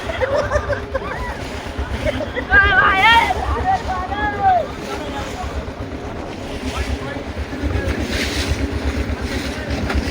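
On tidal water, a boat rocks and lurches over waves amid a dense, steady rush of wind and water with low throbbing pulses, while people's voices rise briefly over the noise.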